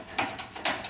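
Quick metallic ratchet clicks come from a wrench tightening bolts on a CJ7 steering damper, a few close, crisp bursts in about a second.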